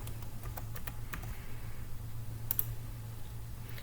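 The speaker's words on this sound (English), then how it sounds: "all you're going to do is type in your library card number" Keys on a computer keyboard are tapped in a quick, uneven run of light clicks as a library card number is entered, close and quiet over a steady low hum.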